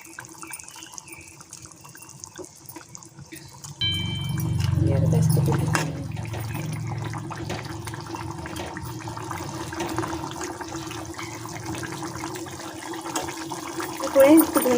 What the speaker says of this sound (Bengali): এবার জল দিয়ে দেবো, ঝোলটা ফুটে গেছে।